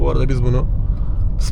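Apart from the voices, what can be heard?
No everyday noises stand out.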